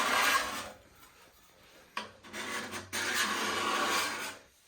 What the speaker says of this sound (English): there's a little bit of glue squeeze out. Just every scrape.